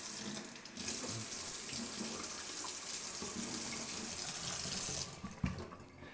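Water gushing from a tap into an extra-large ceramic shaving scuttle, a steady loud splashing stream that stops abruptly near the end, followed by a small knock and quiet dripping.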